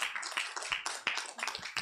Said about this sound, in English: Another round of applause for that very wonderful speech from the publisher